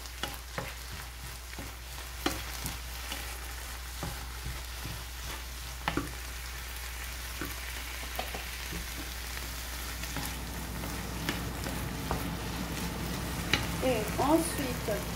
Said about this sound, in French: Et on va continuer à faire revenir le poivron.